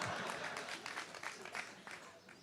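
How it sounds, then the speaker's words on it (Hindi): Audience applause in a hall during a Hindi storytelling talk, a dense steady wash of clapping through the whole stretch with voices mixed in. "इसीलिए लोग ताली बजा रहे हैं।"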